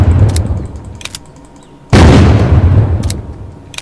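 The Grizzly gun in a video game fires in loud, close blasts: an early burst of shots, a quieter gap, then a heavy booming report that rings out and decays.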